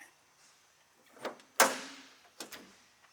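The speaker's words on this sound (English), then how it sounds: "Go ahead and open this tailgate" Tailgate of a Toyota Tacoma TRD opening: a couple of soft clicks, then a sharp latch clunk followed by a hinge thud and a final lighter knock, close by with no talk.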